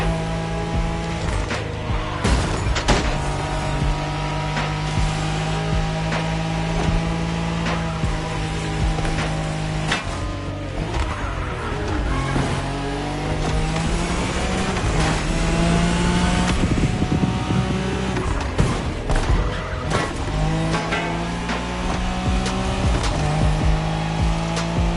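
A Nissan Skyline in The Crew Motorfest races a Tokyo Bayshore Wangan route. The engine revs loudly through repeated gear shifts, its pitch rising and dropping, with occasional tire squeal.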